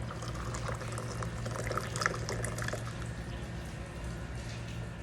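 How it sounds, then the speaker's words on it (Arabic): Water trickles and splashes into sugar in a pan, a quiet continuous pouring with small bubbly drips, close and soft against a low background hum. "نحط موية فوقه"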